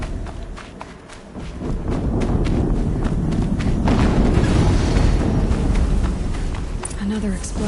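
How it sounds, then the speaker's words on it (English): A deep, rumbling explosion swells and rolls on for several seconds in the action game Horizon Zero Dawn, with running footsteps and clatter mixed into the dense boom. "Another explosion."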